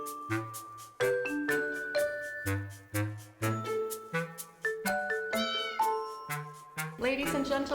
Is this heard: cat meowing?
yes